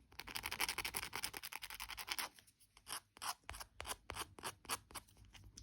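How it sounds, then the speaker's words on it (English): A file works the burr off a cut wire end for wire-wrapped earrings: a dense scratchy rasp at first, then a run of short, rhythmic strokes, close and quiet, with no voices. "using a nail file or a cut burr or a diamond file, whatever you've got, just take the burr off the end of that"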